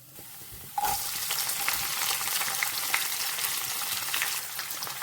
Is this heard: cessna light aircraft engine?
no